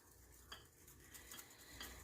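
A spoon clinks and scrapes in a bowl, stirring lime jello powder into warm juice to dissolve it, with a steady soft swishing and a few brighter taps close up and no talking.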